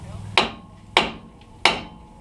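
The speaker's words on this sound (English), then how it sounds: "Take a hammer and hit the knuckle right at the joint." Three sharp metal-on-metal hammer blows strike a GM truck steering knuckle at the upper ball joint, evenly spaced about half a second apart, close and loud with ringing decay in a garage.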